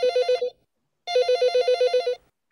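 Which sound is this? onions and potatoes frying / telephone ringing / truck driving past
telephone ringing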